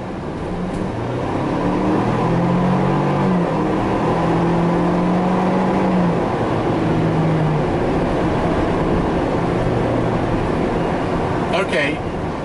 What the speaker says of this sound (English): you are hearing some wind noise, although I hear it more in the back, not the front of the vehicle